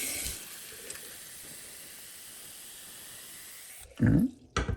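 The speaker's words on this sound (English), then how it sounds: "fill up your coffee pot with hot water" Hot tap water runs into a glass coffee pot with a steady, close hiss that holds for several seconds, then stops, followed by a couple of brief clunks.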